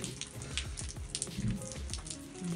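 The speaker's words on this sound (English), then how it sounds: "it's just raining" Rain patters and drips irregularly on a surface close by, a scattered tapping with no voices.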